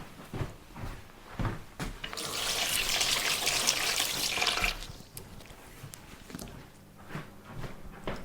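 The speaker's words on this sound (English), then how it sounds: "let me wash my hands." Kitchen tap water runs into a sink for a few seconds while hands are washed, a steady splashing rush set between softer handling clatter and faint movement.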